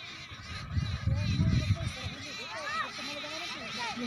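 Many sparrows chirp in a rain-damaged cotton field, a busy scatter of short, high calls running throughout at moderate distance, with people talking nearby beneath the birds.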